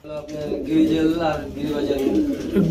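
Male and female racing pigeons offered for sale coo in low, throaty, rolling calls close by, with someone talking over them.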